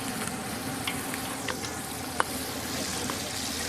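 Crayfish dish in a Goan kitchen sizzling steadily in the pan as kokum tamarind pieces go in, with close, continuous frying crackle and a few sharp spits and pops.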